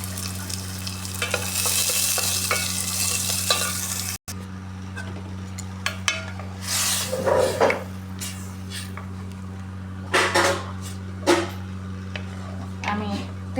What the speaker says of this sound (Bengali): আমি তেলের পরে দিয়ে দিলাম চাল কুমড়াটা আর ডালটা।